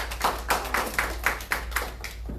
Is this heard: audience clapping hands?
yes